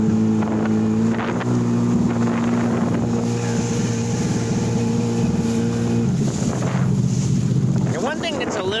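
Steady droning engine hum of personal watercraft on open water, with wind buffeting the microphone and a pitch shift near the end as an engine revs.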